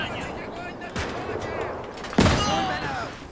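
Battlefield gunfire in the Gates of Hell strategy game: two sharp, loud rifle or artillery bangs about a second apart, each with a rolling echoing tail over distant battle noise.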